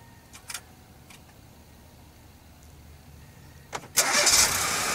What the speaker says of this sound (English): hold that start button. It's going to start the car.